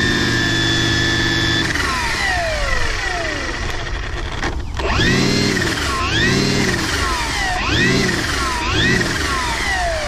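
A Milwaukee cordless string trimmer is run at full throttle, producing a loud, close whining motor tone whose pitch swoops up and down repeatedly as the speed surges, with no talking.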